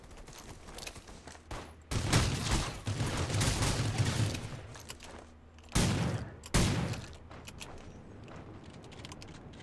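Bursts of gunfire in the battle-royale game Rules of Survival, with a sustained volley in the early middle followed by two sharp, loud shots later, over a low game ambience with no talking.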